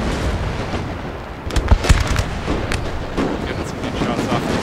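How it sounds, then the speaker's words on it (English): Artillery batteries opening fire in a Napoleonic-era battle in Napoleon Total War, a dense rumble of booms and cracks with several sharp reports clustered near the middle, under a continuous roar of battle. "Oh, so much artillery opening fire."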